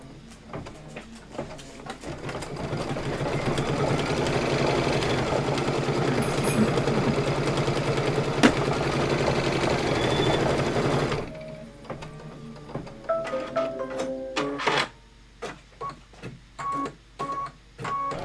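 A sewing machine stitches a placement line on a quilted pillow, running steadily for about eleven seconds, then breaking into short stop-start bursts with small clicks and pauses.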